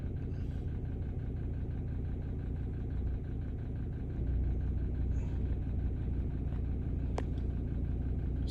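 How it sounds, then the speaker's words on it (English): A Ford Ranger 3.2 engine with a boost fault code idles steadily: a low, constant diesel rumble with faint mechanical ticking, heard close and alone. "I'll turn off the engine. Turn off the engine."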